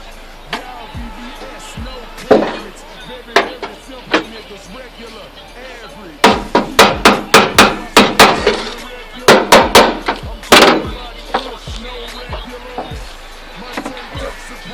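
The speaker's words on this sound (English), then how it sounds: "Take a flathead and a hammer, tap this little lock ring off" Sharp metallic hammer taps on a flathead screwdriver driving a fuel sending unit lock ring off a 1980-1990 Chevy Caprice, close and loud, with clusters of rapid blows separated by short pauses.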